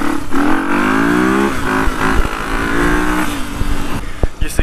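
A car engine pulls hard in fourth gear, its rising, steady drone loud and close for several seconds before easing off, with rattling and bumps near the end.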